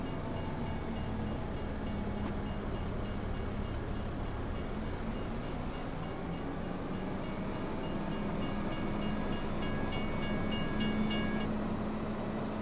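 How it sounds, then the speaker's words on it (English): A train passes in the video game Farming Simulator 25 with a low, continuous rumble and rolling clatter. The sound stays at a constant, fairly quiet level and carries no talk. "almost pulled out right into a train."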